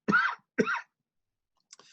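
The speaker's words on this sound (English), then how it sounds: "Sorry about all the coughing." Two short, sharp coughs close to the mic in quick succession, then a faint rustle near the end; no talking.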